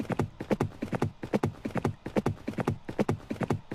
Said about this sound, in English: There's galloping horse sounds.